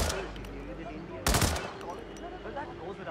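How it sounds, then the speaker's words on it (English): Assault rifle gunfire in the video game Hitman, a single sharp loud burst cracking out partway through, over a low ambient game background. "That's a loud AR"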